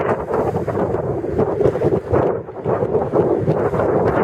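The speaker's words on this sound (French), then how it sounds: "Je m'excuse d'avance pour le vent. C'est très venteux aujourd'hui encore comme hier." Strong gusting wind buffets an outdoor microphone on a very windy day, a loud, constant low rumble with surging bursts and no speech.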